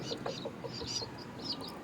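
Young chicks peep in short, high chirps while being given feed, a steady scatter of small calls close by over a low background rustle.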